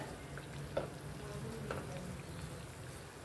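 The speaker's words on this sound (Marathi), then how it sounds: "अशा ह्या करंज्या आपल्याला चांगल्या खरपूस अशा तळून घ्यायच्या." Fresh coconut karanji pastries deep-fry in oil with a faint, steady sizzle and occasional soft pops, heard close but quiet, with no voices.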